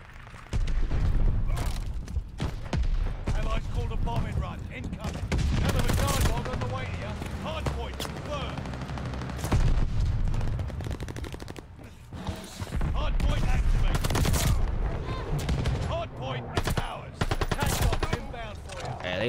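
MP40 submachine gun fire in Call of Duty: Vanguard, loud sustained bursts of rapid automatic shots with booming explosions mixed in and a voice talking over the action.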